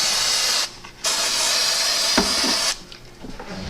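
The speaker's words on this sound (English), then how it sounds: "we're going to spray this piece liberally with glue" Close, loud hissing bursts of spray glue from an aerosol can coating a saddlebag liner piece for a Victory motorcycle, two long sprays separated by short pauses and followed by a softer final spurt.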